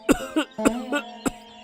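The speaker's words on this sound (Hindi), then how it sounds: "इतनी खांसी हो रही है" A person coughs in a series of four or five harsh, close bursts in quick succession, irregularly spaced, with some voiced, throaty strain between them.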